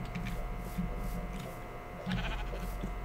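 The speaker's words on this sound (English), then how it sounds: "Lots of sheep around here." Sheep bleat in the Technomancer video game, a few short wavering bleats over a steady ambient hum, moderately distant.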